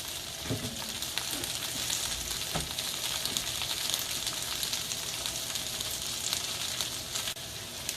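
Red cabbage fries and caramelizes in a hot pan for a Thanksgiving recipe, giving a continuous bright sizzle with a few sharp crackles and pops near the start. There is no talking.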